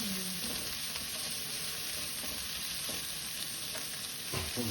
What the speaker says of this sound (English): I'll just stir fry it 1 minute.